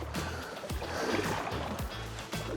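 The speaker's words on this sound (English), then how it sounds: "It's actually pretty nimble paddling, not hard at all." Kayak paddle strokes from a Native Titan X 12.5 on open water, recurring roughly every half second as a steady rhythmic splash and swish, close and moderately loud with a constant wash of water underneath.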